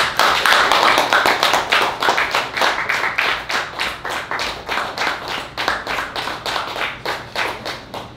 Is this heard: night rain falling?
no